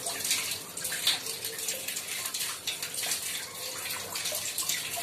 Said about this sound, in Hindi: अब ये गर्म पानी आ रहा है।